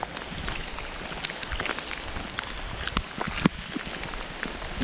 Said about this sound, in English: It's always soothing to watch rain and hear it.